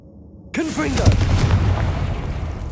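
A Confringo spell explosion in the Hogwarts Legacy video game bursts in suddenly after near silence, a loud boom that rolls into a sustained rumbling tail with a brief voiced cry at its onset.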